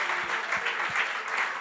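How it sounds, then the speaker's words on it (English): A church congregation claps hands together in steady, evenly spaced rhythmic beats, a moderately faint, room-filling patter that continues for a couple of seconds. "Let's give a hand clap offering to the Lord."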